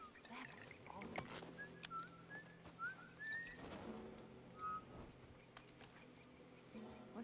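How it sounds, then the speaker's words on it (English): In The Last of Us Part 1, Ellie whistles a few short, thin notes, scattered between game sounds and speech in the background. "I'm whistling."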